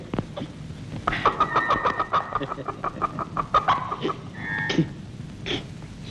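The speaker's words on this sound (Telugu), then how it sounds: "కోడి కోడి ఫ్రెష్గా తెచ్చాను" A chicken clucks in a quick, uneven run of close, fairly loud calls, followed by a longer drawn-out squawk, with faint background noise between.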